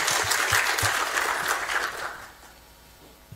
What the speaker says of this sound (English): if there's a lady sitting next to you, give them a clap